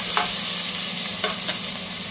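Ginger, green chili, cumin and chopped garlic sizzle in hot oil for ambada bhaji, a steady bright hiss with a few soft scrapes of stirring.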